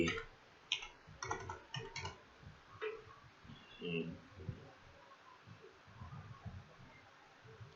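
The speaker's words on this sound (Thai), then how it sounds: "นี่ผมขอพิมพ์หมายเลขอีกครั้งนะ" Keys on a computer keyboard are tapped in short irregular bursts while an account number is entered, light close clicks spread through the clip under ongoing male speech.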